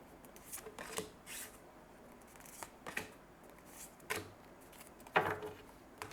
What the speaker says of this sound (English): I'll take out 3 more cards here